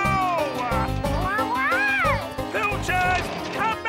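A voice imitates a cat with rising and falling meows over cartoon background music, close and clear, repeated several times.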